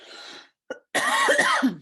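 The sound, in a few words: cough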